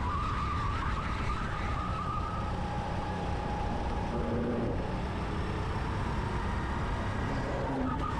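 Rental go-karts racing around a track late in a race, with a continuous droning engine roar and occasional tire squeal rising and falling as karts pass near.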